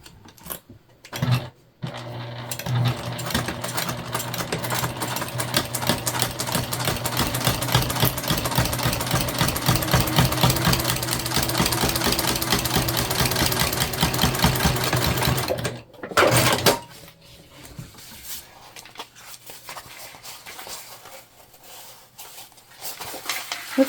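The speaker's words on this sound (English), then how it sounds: "Sew together at the seam allowance in the pattern." A sewing machine stitches the seam of a fabric lunch bag, a fast, steady mechanical whir and needle clatter running for about fourteen seconds, close and loud, then a short burst and quiet handling afterward.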